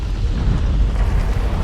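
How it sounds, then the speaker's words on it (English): Rumbling video game explosions from Guild Wars 2, a dense, sustained low roar with bursts and crackle filling the whole stretch, loud and close with no talking. "Those explosions exposed some more blood."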